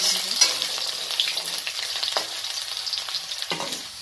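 Small potato pieces frying in a pan until lightly browned, a steady close sizzle with occasional stirring scrapes, no voices.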